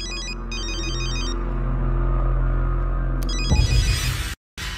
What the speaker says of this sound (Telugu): అన్నా, ఫోన్ అన్నా.